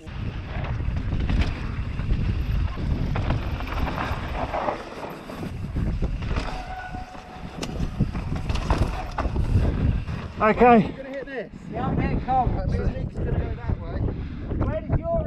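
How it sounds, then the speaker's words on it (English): Heavy wind buffets the microphone in a constant low roar on an exposed mountain-bike trail, with people talking briefly and faint whistling tones rising and falling beneath it. "pretty windy"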